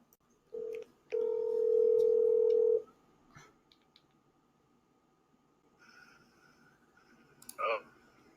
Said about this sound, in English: So I'll call you on WhatsApp.